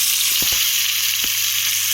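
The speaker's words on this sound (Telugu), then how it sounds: "ఇప్పుడు కళాయి వేసుకున్నాం, నూనె మరుగుతుంది." Hot oil sizzles steadily in a kadai, ready for a ground paste of onion, cinnamon and poppy seeds, with a constant bright hiss and a few soft pops.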